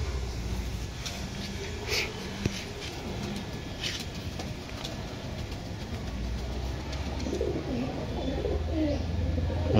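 Pakistani pigeons coo softly in a loft in Purba Bardhaman, low repeated calls over a rumbling background and occasional clicks and flutters.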